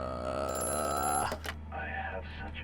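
An old telephone rings in the horror game Amnesia: A Machine For Pigs, a steady electric bell trill that cuts off abruptly and is followed by quieter game ambience.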